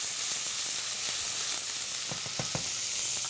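Leeks sizzle as they go into a pan of browned bacon, a steady close frying hiss with a few soft stirring taps near the end and no talk.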